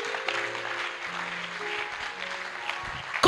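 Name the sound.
congregation applauding and cheering for Jesus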